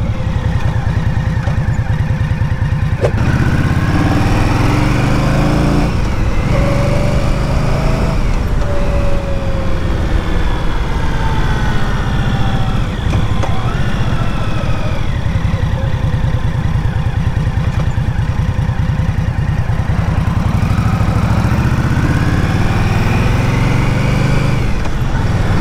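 Indian Scout Bobber 2023 motorcycle engine running steadily and loud throughout, with a continuous low drone and rising and falling pitch as it accelerates on the road, heavy wind rumble underneath.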